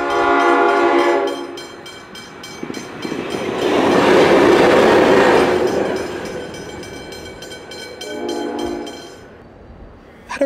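Two diesel locomotives, A66 and N455, rumble past close by with horn blasts at start and end, engine roar swelling then fading, no talking.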